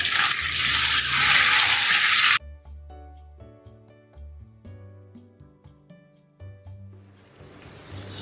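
Marinated chicken drops into a hot pan and fries, a loud sizzle that dies away into quieter crackling, with some clanks as it is stirred, and the sizzle swells again at the end.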